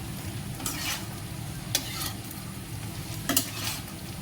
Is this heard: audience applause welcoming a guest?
no